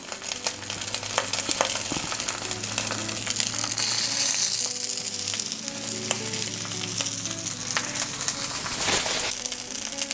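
Rice balls for yaki onigiri fry in a pan just below medium heat, a loud, close, continuous sizzle with crackles, clicks and occasional scraping or stirring noises running throughout.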